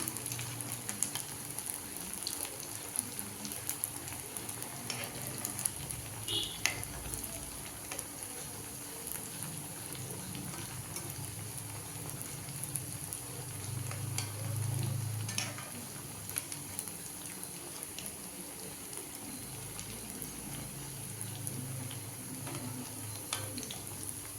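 Fish maker vada frying in oil, a soft, steady hiss and fine bubbling that holds evenly for a long stretch, fairly faint and close, with a few light clicks and no talk.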